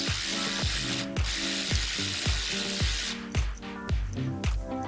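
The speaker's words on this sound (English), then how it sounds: "Then we're going to go ahead and loosen the main tensioner bolt, which is this top guy up here." A ratchet with a 12mm socket loosens the alternator tensioner bolt on a 2006-2012 Toyota Corolla 1.8L, a close series of quick clicking bursts repeating with each stroke of the handle.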